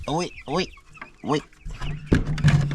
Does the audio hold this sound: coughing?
no